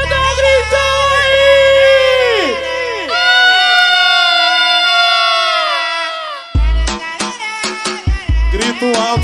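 A loud live concert crowd shouts and cheers in sustained waves, followed by sharp rhythmic bursts of music and voices near the end.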